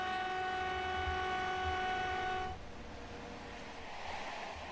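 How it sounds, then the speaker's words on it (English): Passenger train in Train Simulator 2022 on the Salzburg–Rosenheim route rushes past at speed, a loud sustained tonal roar with humming harmonics that cuts off abruptly midway into a fainter rumbling wake. "Let's go ahead and let's watch the train going past at speed."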